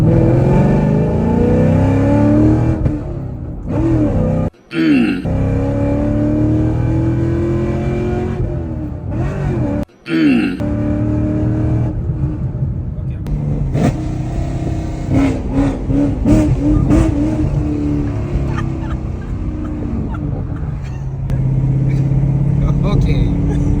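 A 2019 Camaro SS with catless Texas Speed headers and an X-pipe revs hard and loud, its deep engine note climbing and falling through repeated pulls, with two brief cutoffs as people talk and shout over it close by.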